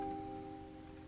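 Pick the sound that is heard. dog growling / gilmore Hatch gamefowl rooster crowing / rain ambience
rain ambience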